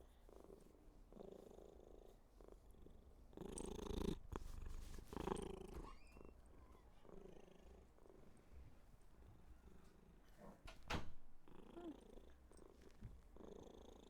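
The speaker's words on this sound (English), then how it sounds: "She has one of the loudest purrs I've ever heard." A cat purrs close and loud in a continuous rumble, with a couple of brief louder rustles or bumps breaking in partway through.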